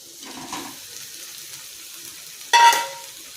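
Sweet potato pieces dropping into a frying pan with hot oil, cumin and sesame seeds for a fasting-day sweet potato and potato dish, giving a soft steady hiss and then a sudden louder sizzle near the end.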